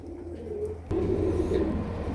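Pigeons of a pair-bred stock cooing continuously in low, throaty tones, growing fuller and louder partway through, with a brief click or knock just before.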